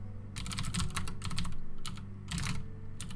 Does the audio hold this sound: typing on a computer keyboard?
yes